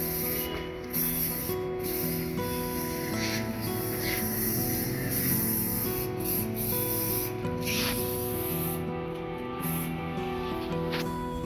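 Aerosol 7CF spray hisses steadily while a Honda motorcycle, a CB150F or Roadmaster 200, is polished, with a continuous close spray and rubbing noise under a low background hum.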